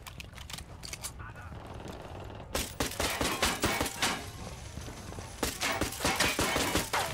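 Gunshots ring out in the video game Ghost Recon Wildlands. Sharp, repeated cracks arrive in uneven volleys and rapid strings over a steady background of game noise, growing denser in the later part.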